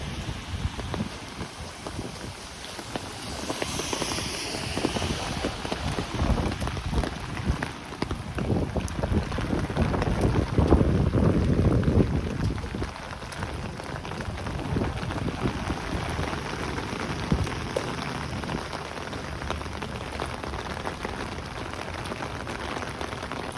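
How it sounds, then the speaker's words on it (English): Steady rain patters on pavement and surfaces during a street walk in Howard Beach, Queens, a continuous hiss with occasional wind buffeting the microphone and a passing swell of traffic-like rumble midway. "I love a good walk in the rain."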